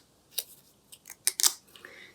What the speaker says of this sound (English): if you take your scissors and just curl each petal